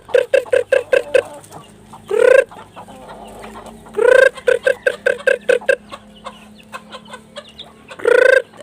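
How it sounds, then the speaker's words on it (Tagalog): Rhode Island Red chickens cluck in quick rapid bursts, with several longer drawn-out squawking calls between them, close and fairly loud outdoors. "Ayun yung mga Rhode Island Red na gumagala lang dito."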